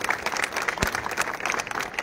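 Loud audience applause from an election rally crowd for a municipal council poll in Indapur, dense steady clapping filling the whole moment with one sharp thump partway through.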